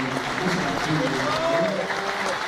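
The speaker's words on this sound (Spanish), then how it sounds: "Vamos a recibirle con un fuerte aplauso." A live radio audience applauds to welcome a singer, a continuous wash of clapping with a murmuring crowd and some voices mixed in.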